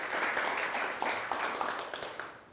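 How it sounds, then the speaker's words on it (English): An audience applauds to welcome a speaker at an entrepreneur center presentation, a short, even burst of many hands clapping that tapers off after a couple of seconds, fairly faint and distant. "just give a round of applause"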